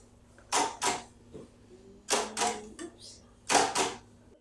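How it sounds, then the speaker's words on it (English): A Perkins Brailler punches braille in three bursts of two or three sharp mechanical key strikes each, separated by short pauses, fairly close and clear. "the Perkins Brailler kind of looks similar to a typewriter"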